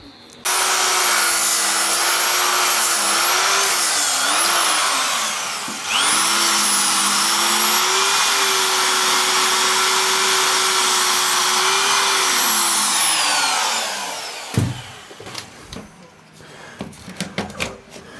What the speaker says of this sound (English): In actual fact, I'll just sand that in.